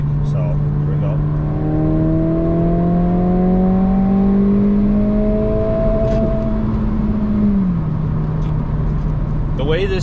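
A 2022 Honda Civic Si running a Ktuner tune pulls hard toward redline, its engine note rising steadily in pitch and holding near the top before an upshift drops it back. The engine is loud and close throughout, with no talk over it.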